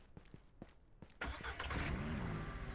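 A car engine in the Ranch Simulator video game cranks and catches, rising from a few soft taps into a loud, steady running roar with slight revving, up close and with no talk.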